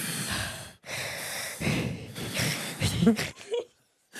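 A person forcefully imitates heavy, rough breathing in a series of loud huffing breaths, with short pauses between them and a sharp gasp near the end.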